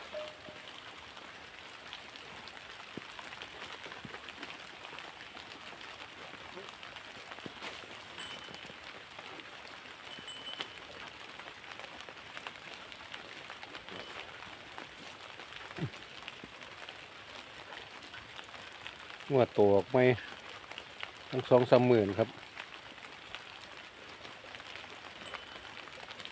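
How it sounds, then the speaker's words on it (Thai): Rain falls on a rural farm with cattle in cold weather, a steady dense patter throughout, while someone speaks briefly in two short bursts near the end. "โอ้ยฝนตกฝนตก"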